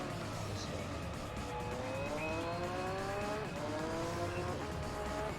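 An LMP Dragon race car in Gran Turismo 3 revs through rising gear pulls, its engine whine climbing steadily and shifting up while tire noise hisses faintly underneath.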